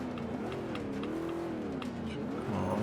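A vintage Ford Mustang in the Forza Motorsport 5 racing game, its engine droning loud and steady with the pitch rising and falling as it revs through the run, no talk over it.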